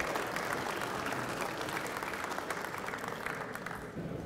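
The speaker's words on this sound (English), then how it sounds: "One more round of applause for these guys." A crowd at a coin show opening ceremony applauds steadily for several seconds, dense sustained clapping from many hands at moderate distance.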